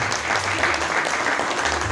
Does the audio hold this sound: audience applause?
yes